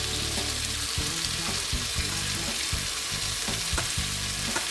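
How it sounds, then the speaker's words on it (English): Chicken satay skewers sizzle steadily in a hot pan, a loud continuous frying hiss with occasional crackles and soft knocks as the sticks shift, with no voices. "So my chicken is cooking up nicely."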